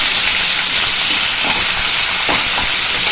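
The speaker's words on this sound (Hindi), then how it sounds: "जीरा डाला है, और ये प्याज डाल देंगे। इसको हमें गुलाबी होने तक भूनना है।" Chopped onions with cumin seeds frying in a pan for a rajma masala, a loud continuous sizzle and hiss with faint crackles, no voices.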